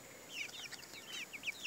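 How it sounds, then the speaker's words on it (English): Baby chicks on a small homestead peep and chirp in quick, high-pitched bursts, several overlapping calls close by over a low background hiss. "What are these baby chicks up to?"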